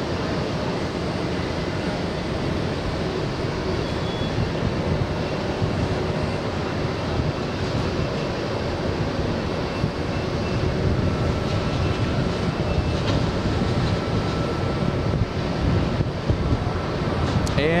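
Air Force One coming in to land, a steady loud roar of jet engines blended with heavy wind buffeting on the microphone, continuous throughout with no clear voices.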